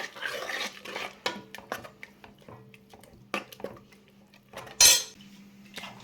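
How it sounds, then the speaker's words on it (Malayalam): A spoon clinks and scrapes against a cooking pot while ground paste is stirred into a drumstick leaf and lentil curry, with irregular close metallic taps over a low background hum. "അരച്ചത് അങ്ങോട്ട് ഇട്ടിട്ട് നമുക്ക് ഇളക്കി"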